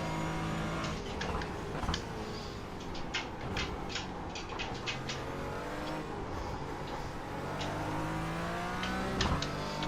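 A GT4 race car in the iRacing simulator holds a steady engine drone that rises and falls with throttle and gear changes, with occasional tire noise and brief mechanical clicks. No voices are heard.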